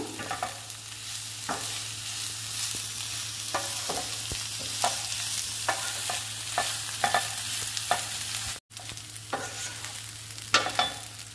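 Ivy gourd pieces fry with ginger garlic paste in a pan, a steady sizzle under repeated scraping stirs and spoon taps, close and continuous with no talk.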